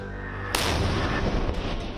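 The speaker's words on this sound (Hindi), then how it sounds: "स्वदेशी होइट्जर तोप का नाम एडवांस्ड टोर्ड आर्टिलरी गन सिस्टम यानी ATAGS है।" An indigenous ATAGS towed howitzer artillery gun fires with a sudden loud blast over steady background rumble, followed by a trailing boom and echo.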